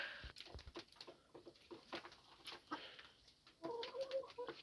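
A rooster clucks and calls in short bursts among other farmyard bird sounds, close by and moderately loud.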